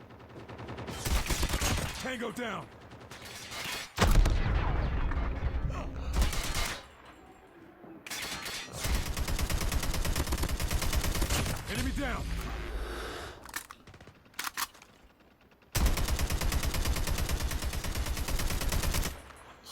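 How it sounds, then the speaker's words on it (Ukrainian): Bursts of rapid AK-47 gunfire in Call of Duty: Mobile crackle in several long stretches, separated by brief pauses, with someone talking intermittently between and under the shooting. "Не поняв, хто звідкіля стріляє."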